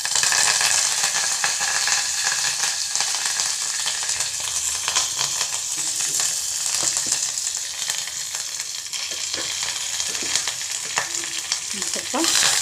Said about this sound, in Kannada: ಕರಿಬೇವಿನ ಸೊಪ್ಪು ಹಾಕ್ಕೊಳ್ಳೋಣ